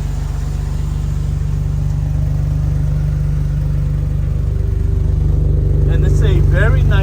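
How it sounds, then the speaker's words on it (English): An inline-six vehicle engine fitted with a Banks cat-back exhaust and Banks intake runs close by at a cold start, a loud, steady low rumble throughout, with a brief voice heard near the end. "it's a very nice exhaust tone with the Banks exhaust system, cat's back"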